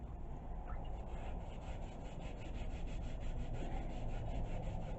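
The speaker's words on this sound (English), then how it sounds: "I'm just going to go through and just clean this with the Scotch-Brite pad" Scotch-Brite pad scrubbing a metal tool with vinegar, a steady close rasping rub with rapid back-and-forth strokes, continuous and moderately quiet.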